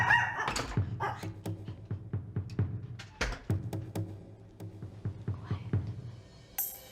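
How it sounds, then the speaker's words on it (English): A dog barks repeatedly as a person comes through a door and works the door handle: a quick series of sharp, close barks in an uneven rhythm, and a handle or door rattles near the end. "So you saw how the dog barked when she just entered the door or made a noise with the door handle."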